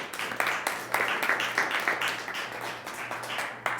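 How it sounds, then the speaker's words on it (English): A small audience gives Josh a round of applause at a body language talk, a thin patter of individual claps with a few sharp louder ones, over a faint steady hum. "Big round of applause for Josh"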